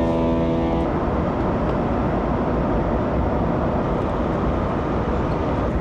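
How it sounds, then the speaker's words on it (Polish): Steady, loud broadband roar of an airliner cabin in flight, a constant engine and air rush with no change throughout; a brief tonal hum fades out in the first second. "przeszło w taki normalny, klasyczny szum samolotu"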